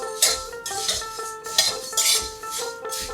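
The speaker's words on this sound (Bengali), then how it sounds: "শুকনো খোলায় এই নিয়ে যাওয়া মুড়িগুলো আমি আস্তে আস্তে ভেজে নেব বিনা তেলে।" Dry puffed rice tossed in a hot pan with no oil, giving repeated bursts of crisp rattling and light metallic scraping at a steady stirring rhythm, close and fairly quiet, with no talk.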